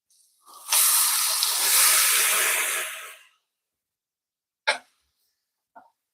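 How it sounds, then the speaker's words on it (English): Vegetables hitting a hot pan for a saute, a loud sizzling hiss that flares up and fades over a few seconds, followed by two short sharp sizzle bursts. "Now, what we're gonna do, we're gonna saute our vegetables."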